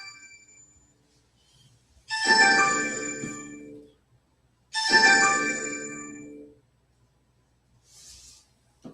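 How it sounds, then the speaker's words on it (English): An incoming call sets off a phone ringtone: two bright, chiming rings a couple of seconds apart, each decaying over about a second and a half, heard clearly in a quiet room. "Oh, Rosebud, you really answered my phone call, man?"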